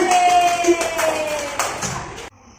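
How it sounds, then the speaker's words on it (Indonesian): Children clapping their hands together in a classroom, a burst of quick, dense claps with a voice calling out over them, stopping abruptly near the end. "Tepuk tangan"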